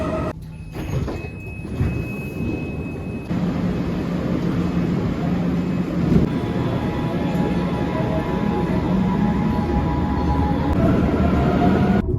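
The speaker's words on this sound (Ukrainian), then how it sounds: "Це наш поїзд до готелю." A Munich metro train rumbles along steadily, with a brief high tone and door-like sounds early on, then a constant rolling hum of the moving car.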